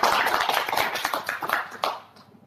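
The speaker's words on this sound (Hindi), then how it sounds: "एक बार मैं चाहूंगा जोरदार तालियां हो जाए।" Seminar audience clapping together, a dense burst of many hands at full strength that swells once more near the end, then thins and fades out.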